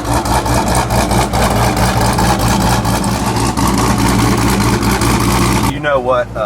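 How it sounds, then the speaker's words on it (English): A 1200hp Jeep Trackhawk idles with a loud, constant low rumble close by. Voices talk over it, and the engine cuts off near the end. "Oh, the idle on this thing,"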